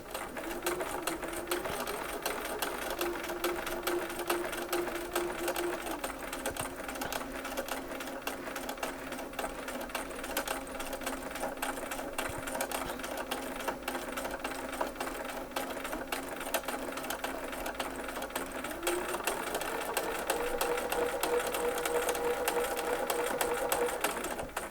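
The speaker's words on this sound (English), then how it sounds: "So this time I think I can stitch it with my normal stitch length" A sewing machine stitches an eight point star quilt block at normal stitch length, a steady, close mechanical whir running without a break for nearly twenty-five seconds, its pitch shifting slightly with speed.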